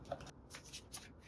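Tarot cards shuffled and drawn by hand, soft papery riffles and slides with a couple of light snaps, close and quiet, with no talking.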